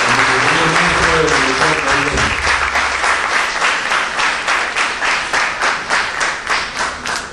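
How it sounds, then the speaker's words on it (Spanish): After a short spoken introduction, a university lecture audience in Peru applauds the education minister: a loud, dense burst of clapping that settles into a steady rhythmic beat of many hands. "le pido por favor que con nuestros aplausos le demos ese agradecimiento y ese recibimiento"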